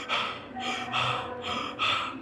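A man imitates heavy, panicked breathing: a series of sharp, loud gasps and snorting breaths in an uneven rhythm, close to the microphone.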